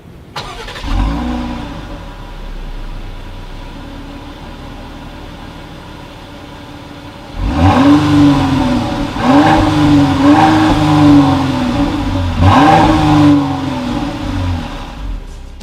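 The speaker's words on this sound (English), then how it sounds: "As always, here is that exhaust clip." A 2019 Dodge Durango SUV with dual chrome-tipped exhaust outlets idles steadily, then revs several times in a loud, close burst of rising and falling engine roar, heard alone without talk.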